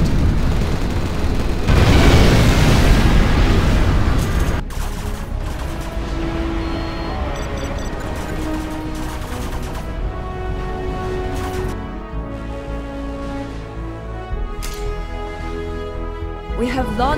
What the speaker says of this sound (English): launched our nuclear missile.